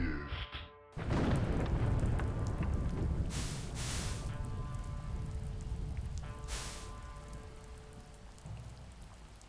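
Rain cast as a spell in a fantasy video game to put out a fire: a sudden, steady rush of falling rain begins after a moment and carries on, with a few louder bursts of spatter and splash.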